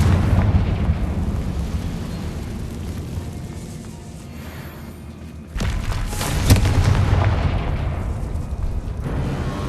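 A Confringo explosive spell blast in the Hogwarts Legacy video game, a deep booming burst with rumbling fire, followed by a second sharp blast and sustained roar, loud and close.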